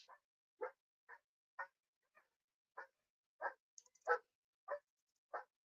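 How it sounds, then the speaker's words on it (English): A dog barks repeatedly at someone at the door, about ten single sharp barks spaced roughly half a second apart, faint and somewhat distant, with no talking. "all you can hear is my dog's barking because someone's at the door."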